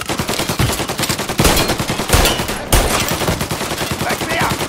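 Rapid pistol gunshots in the Mafia remake video game, a fast, loud run of sharp cracks with brief pauses between bursts and faint speech underneath.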